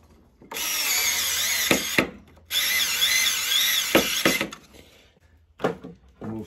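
A power drill drives a screw into a mini split air conditioner's blower assembly during HVAC motor replacement, whirring loudly in two sustained bursts with short pauses and a brief final spin, close up and without talk.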